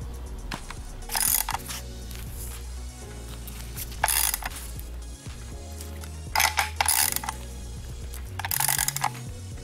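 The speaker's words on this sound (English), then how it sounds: "Making sure all my bolts tight before I cut my tips off." A ratchet tightens the bracket bolts on a bucket seat being installed in a box Chevy Caprice. It gives several quick bursts of rapid clicking at irregular intervals, close and fairly loud, with quiet mechanical handling between them.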